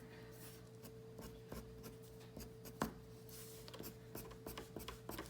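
Colored pencil scratching out short fur strokes on paper: a steady run of quick, light rasping marks, each a brief scrape, close and quiet, with no talking.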